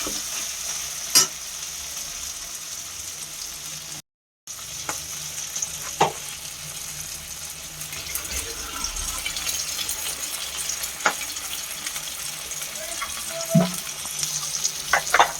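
Spinach with prawns, turmeric, chili powder and green chilies frying in a pan, a soft continuous sizzle broken by occasional scraping stirs and light knocks of a spatula.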